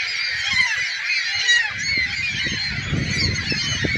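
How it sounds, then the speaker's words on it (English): Seagulls of several species call in a dense, overlapping chorus of harsh squawks and honks around a shopping mall, loud and continuous, with low rumbling noise underneath. "There was 3 different species of seagulls here, and they're all fighting and trying to overpopulate each other."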